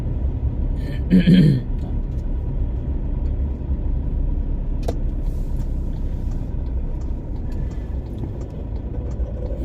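Car traffic crawling bumper to bumper on a narrow street in Vientiane, a steady loud engine rumble and road noise throughout, with a brief louder vehicle passing near the start.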